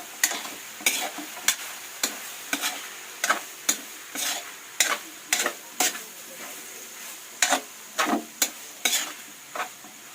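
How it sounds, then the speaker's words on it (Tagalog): Kinunot with ground pepper and bay leaves is stirred in a pan: a spoon scrapes about a dozen times in a loose rhythm over a faint sizzle, close by and without speech. "Haluin din natin ng maayos"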